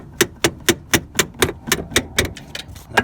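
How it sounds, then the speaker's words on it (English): A small toy kitchen hammer knocks on a Ford F150 steering shaft, about ten sharp metallic taps in a steady, even rhythm, close and fairly loud, the last few lighter. "Get it off there with a hammer."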